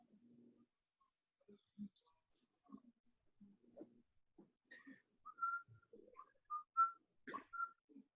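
A man whistles a short, wandering tune of separate high notes, fairly faint and close, with a few low murmurs and breaths in between and no other sound around it.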